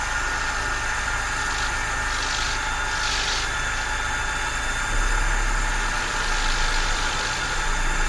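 Small M2 10J electric RC helicopter motor running at idle-level speed with main and tail rotors spinning, a steady whirring drone throughout, close by and continuous.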